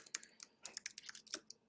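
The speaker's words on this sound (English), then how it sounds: "There's really no reason why I am typing this in all capitals." Quick, uneven keystrokes on a computer keyboard as budget line items are entered in capital letters. The clicks are faint and closely spaced, with no talking.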